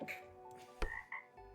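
A frog croaks in the puzzle video game Delete After Reading, a short close croak with a sharper burst midway through a brief, quiet moment.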